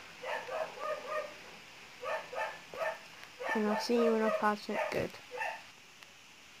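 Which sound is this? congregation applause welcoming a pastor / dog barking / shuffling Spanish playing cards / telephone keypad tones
dog barking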